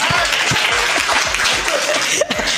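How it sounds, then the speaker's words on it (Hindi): Audience applause at a Hindi comedy poetry show (hasya kavi sammelan), a dense continuous clapping wash with scattered low thumps and faint chuckles, steady and loud throughout. "तालियां हो जाएगा"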